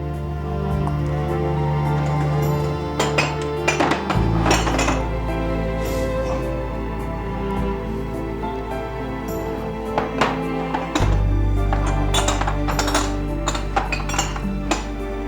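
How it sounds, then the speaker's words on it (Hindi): Dishes, cups and plates clink and knock repeatedly as a dishwasher is unloaded in a household kitchen, with scattered sharp ceramic taps over a low background hum and no speech. "पहले तुम डिशवॉशर से बर्तन निकाल दो, इसके बाद कप्स और प्लेट्स को तुम कबर्ड में रख देना।"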